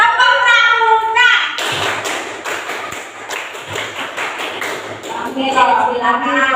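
Schoolchildren in an Indonesian classroom perform the rhythmic scout clap (tepuk pramuka), a quick patterned burst of hand claps and thumps, with voices talking just before and after.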